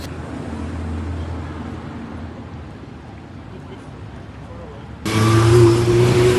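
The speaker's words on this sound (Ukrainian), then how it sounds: "Один негатив це постійний рух ось цих е, мотоциклістів." Constant motorcycle traffic on a street in Hoi An, Vietnam, makes a steady engine drone and road rumble, growing louder and closer near the end.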